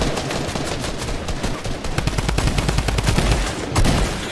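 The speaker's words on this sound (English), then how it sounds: "Dang, he's using suppressed SMG." Suppressed SMG fire in Fortnite rattles out in rapid, close bursts of shots, growing denser and heavier in the second half.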